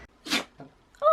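A 7-month-old puppy gives a single small, sharp sneeze up close, followed moments later by the start of a voice.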